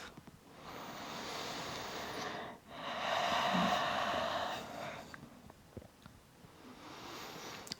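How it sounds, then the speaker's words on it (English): Slow deep breathing held in yoga bridge pose, long airy inhales and exhales in a steady rhythm, close and fairly soft, with a brief pause between breaths. "Let's hold here for 5 slow deep breaths."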